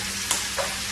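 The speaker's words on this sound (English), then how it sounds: "now I'm going to give the pan a little shake and keep my food all organized here" A pan of country potatoes frying in a continuous hiss, with two quick scraping jolts as the pan is shaken, close and loud with no talking.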